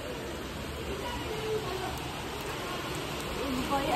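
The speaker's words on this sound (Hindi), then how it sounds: "सेकेंड राउंड बारिश का शुरू हो गया है।" A second round of April rain falls steadily outdoors, making a constant, even hiss with no breaks.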